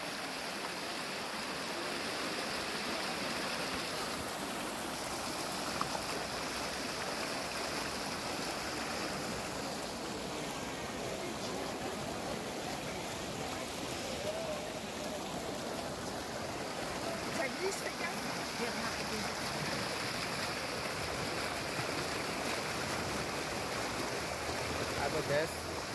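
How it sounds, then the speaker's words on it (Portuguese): Water cascades down a series of natural terraced pools into a reservoir, a steady broadband rush and splash that stays even throughout, moderately near and unbroken. "a água desce ali como cascata"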